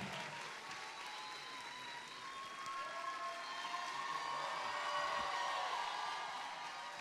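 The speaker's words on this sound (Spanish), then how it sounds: "Fuerte, fuerte, fuerte, fuerte ese aplauso de bienvenida." A large auditorium audience applauds loudly and steadily for several seconds in welcome, with a dense, sustained clatter of clapping and no voices over it.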